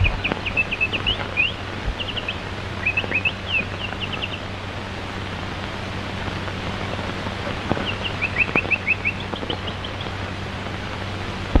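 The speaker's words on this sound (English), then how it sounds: "Darn the bird." A bird chirps in short, high twittering bursts that recur across the scene, set against a steady low hum and faint background noise in an old 1929 crime film.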